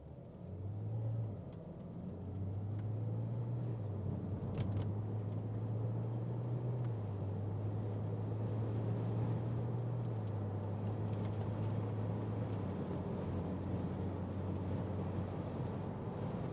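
A 2011 Porsche Boxster engine hums and rumbles steadily from inside the cabin, its tone stepping through gears as the car pulls away and cruises to about 46 mph, then brakes.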